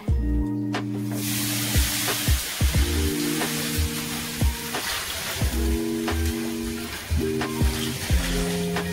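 A pan heats up to brown chicken wraps, giving off a steady close sizzle and hiss that runs the whole way through. Intermittent tonal clanks and hums sit over it, and no voices are heard.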